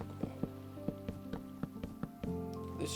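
Rain falling in the Minecraft video game, a steady patter with scattered distinct drop ticks repeating through the moment, at a moderate, even level with no talk.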